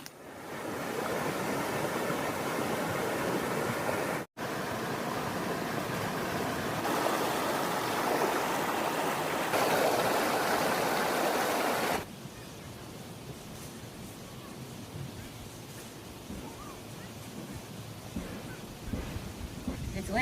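A mountain stream flows steadily as a broad, loud rush of water that carries on without break for about twelve seconds, then eases to a softer, more distant wash, with no talk over it.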